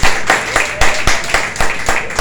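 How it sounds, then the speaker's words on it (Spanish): A church congregation applauds the Holy Spirit during a service with loud, rhythmic clapping: strong bursts repeat evenly, close and dominant, with no talk over them. "Denle un fuerte aplauso al Espíritu Santo."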